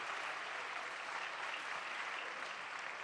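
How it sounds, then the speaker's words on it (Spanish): A crowd claps steadily throughout, a dense even wash of applause heard from some distance without any pauses. "Un aplauso para el equipo"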